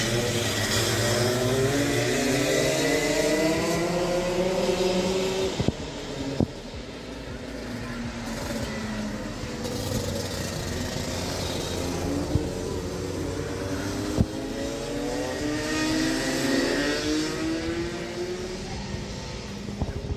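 A go-kart engine drones on a karting track at Layrac, a continuous buzzing whine that rises and falls as the kart accelerates and slows, fairly close and steady throughout.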